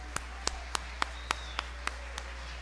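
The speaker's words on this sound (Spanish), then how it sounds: "demos un aplauso para recibir al profesor Manuel Antonio Rodríguez, coordinador de este evento" At a Colombian music event, a sparse run of about nine evenly spaced claps sounds faintly over a low steady hum, more like a few people clapping in slow rhythm than full applause.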